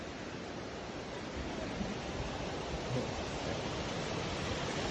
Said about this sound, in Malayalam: ഇതാണ് വെള്ളച്ചാട്ടം എന്ന് പറഞ്ഞ സ്ഥലമാണ്